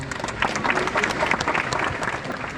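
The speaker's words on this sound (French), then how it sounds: "en tonnerre d'applaudissements" Audience applause at a trail running race event, a dense wash of many hands clapping steadily and fairly close, with no voices over it.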